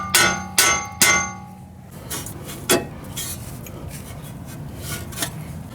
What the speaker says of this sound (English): If that doesn't want to come out, just give it a couple taps.